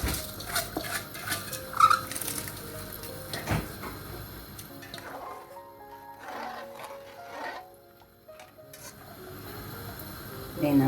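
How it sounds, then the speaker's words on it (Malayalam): Rice pours into a pot of water at a rolling boil with a little coconut oil added, making a faint rustling patter with scattered light clicks and scrapes throughout. "ഈ അരി ഇതിൽ കൊട്ടുകയാണ് കേട്ടോ."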